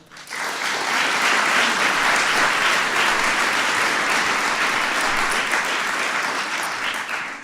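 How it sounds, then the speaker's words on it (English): Loud, sustained applause from a large audience at a White House event honoring the WNBA champion Minnesota Lynx swells in quickly and holds steady for several seconds. "we want to give him a big round of applause"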